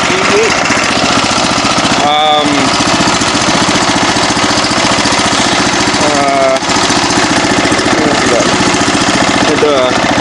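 A snowblower engine runs after a cold start, a loud, close, rapid chugging rattle that holds steady throughout, with brief clanking squeals breaking through a few times.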